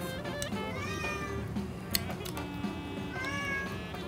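A cat meows repeatedly in a kitchen while a meal is being cooked in Albania, several drawn-out, rising cries close by over a low background murmur.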